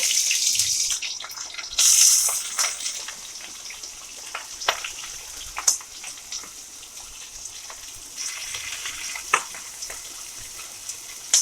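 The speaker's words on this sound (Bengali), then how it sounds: "পেঁয়াজ আর লঙ্কাটা একটু ভেজে নিয়ে এবার আমি মাছের তেলটা দিয়ে দিব" Chillies and onions frying in a small amount of mustard oil give off a steady close crackle and hiss, with scattered pops and a brief louder burst of sizzle near the start.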